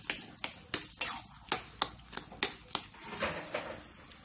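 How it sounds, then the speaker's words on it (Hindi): Boiled vegetables for pav bhaji being mashed in a pan, about a dozen sharp, evenly spaced squelching thuds and taps, close and fairly quiet, with no talk. "इसे हम ऐसे करके मैश कर लेंगे पूरा"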